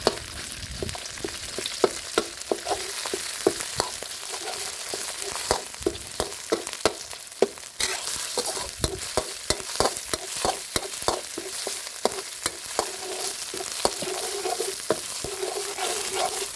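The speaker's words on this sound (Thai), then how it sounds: "จากนั้นก็ใส่พริกแกงเผ็ด 100 กรัมลงไปผัดกับน้ำมันให้หอมก่อน" Red curry paste stir-fried in vegetable oil in a pan, a steady loud sizzle broken by frequent sharp scraping and stirring clicks from a utensil, continuous and close with no voices.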